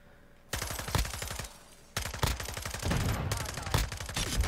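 Rapid automatic gunfire from the FSS Hurricane in Modern Warfare 2, loud close bursts of evenly spaced shots broken by a short pause, then a denser, longer string with no talking.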